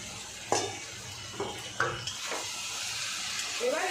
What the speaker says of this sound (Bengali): মাথাগুলো দিয়ে আমি ভালো করে কষাবো